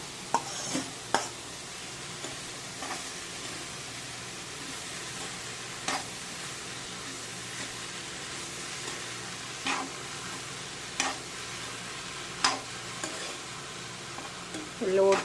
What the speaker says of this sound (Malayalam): ഇട്ടിട്ട് നന്നായിട്ടൊന്ന് ഇളക്കി കൊടുക്കണം